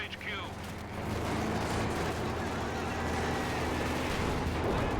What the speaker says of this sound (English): Assault nades go off